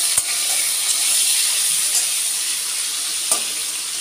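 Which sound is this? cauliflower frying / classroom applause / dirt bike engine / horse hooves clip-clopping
cauliflower frying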